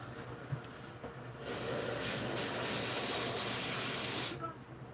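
An airbrush sprays thick, unthinned paint at high air pressure, giving a loud continuous hiss that starts abruptly and runs steadily for about three seconds before cutting off.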